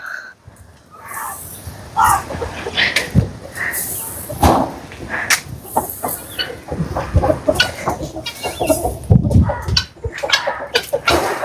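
Chickens clucking and scratching nearby while pecking at scattered feed, with irregular pecking taps and rustling throughout, fairly loud and busy.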